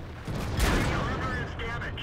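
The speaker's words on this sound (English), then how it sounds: "T95 bounces off my turret" A tank shell from a T95 striking and ricocheting off a turret in a tank video game, a loud booming impact with metallic ringing tails amid continuous battle noise.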